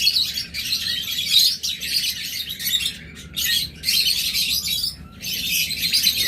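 Caged pigeons, a breeding pair kept with others for sale, fill the space with shrill, rapid chirping in close, loud bursts separated by short pauses.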